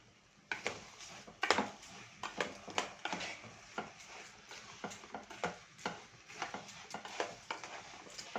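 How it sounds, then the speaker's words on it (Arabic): Rice stirred in a pot over a stove, a spoon scraping and turning the grains in a steady run of repeated strokes and scrapes, close and moderately loud, with no talking. "ونقلب كده تقليبه محترمه مع بعضه"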